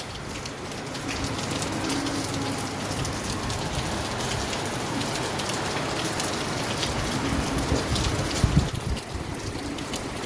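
Heavy rain pours down in Surat during a windy storm, a dense, constant hiss of drops on surfaces filling the scene without any speech.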